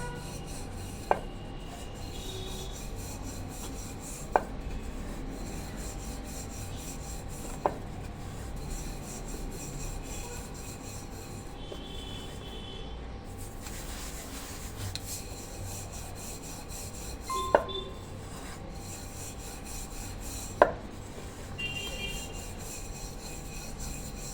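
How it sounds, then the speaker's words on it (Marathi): Tilgul poli flatbread dough is rolled out with a rolling pin, giving a soft steady rubbing and rasping sound with a few sharp taps of the pin, close and quiet with no talk. "आता आपण पोळी लाटून घेऊया"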